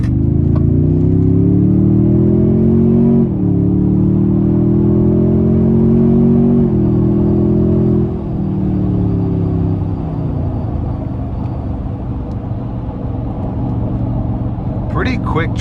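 A 2022 Toyota Tundra TRD Pro hybrid with a 3.4-liter twin-turbo V6 pulls hard under full throttle, its loud steady engine drone rising through the gears with brief dips at each shift, heard from inside the cab.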